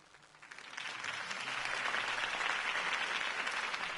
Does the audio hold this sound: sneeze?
no